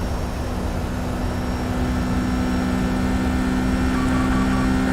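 Boeing 757 freighter engines in X-Plane 11 spooling up to full throttle, a steady loud broadband jet roar with low tonal hum that builds slightly toward the end, no voices.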